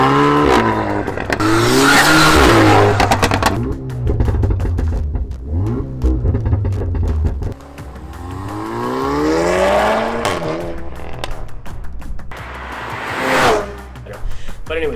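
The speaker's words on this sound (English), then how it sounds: "AWE Switch Path Catback Exhaust." A VW Golf with an AWE Switch Path catback exhaust revs loudly several times, engine pitch sweeping up and down in strong bursts, close to the microphone, with a deep rumble between revs.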